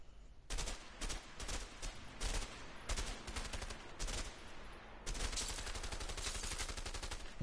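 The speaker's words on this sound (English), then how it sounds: "Alright, just shoot random shit then." Gunfire in the co-op video game A Way Out, with rapid bursts of shots in clusters and a long sustained volley near the end, loud and close with no talking.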